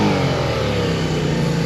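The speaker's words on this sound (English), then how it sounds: "It revs." A 1982 Honda V45 Sabre cafe racer motorcycle engine with synchronized carburetors revs loudly up close, a steady, throaty roar that holds at high pitch without pause.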